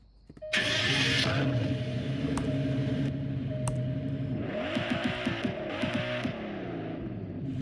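A car engine in the Roblox game Greenville roars steadily with a sustained hum, then revs up and down in a rising and falling whine, loud and close.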